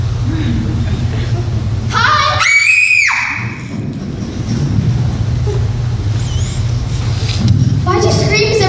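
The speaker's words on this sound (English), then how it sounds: "Why'd you scream?" A loud, high-pitched scream rises and holds for about a second on a school drama stage, amid crowd murmur and a few shouting voices.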